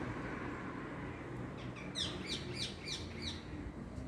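A series of sharp, rising parrot calls from a pine tree in Givat HaMoreh, Israel, repeats several times over steady background rumble, bright and fairly close.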